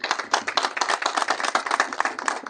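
An audience at a workshop on the Bolivian community in Argentina claps steadily, a dense, even patter of many hands at moderate volume with no speech over it.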